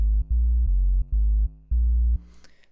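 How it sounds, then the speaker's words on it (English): Default sub sine bass synth in Ableton Live playing a short sequence of deep, loud, pure low notes in separate held bursts with brief gaps, fading to quiet at the end. "We've pulled up this subsine bass that's available in Ableton Live."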